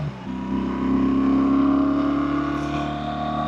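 A 2025 BMW R1300RT, heavy and carrying a pillion, pulls uphill with a steady, droning engine note whose pitch climbs slightly and then holds under load, close and continuous, with no voices.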